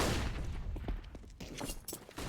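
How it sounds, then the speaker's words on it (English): Galil rifle fire from the Counter-Strike video game on the Inferno map during an esports match, several quick cracking shots in a short burst, moderately loud, with no talking. "hearing all of that Galil gunfire"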